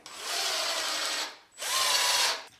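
A power drill drives two screws into a hinge on a wooden bird feeder, giving two close, whining bursts about a second each with a short pause between.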